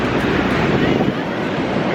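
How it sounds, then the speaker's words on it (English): Heavy surf from large, rough ocean waves at a beach in Cancun roars steadily and loudly, a dense continuous wash mixed with wind buffeting the microphone. "These waves are huge"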